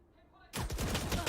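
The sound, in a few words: rifle gunfire in Valorant video game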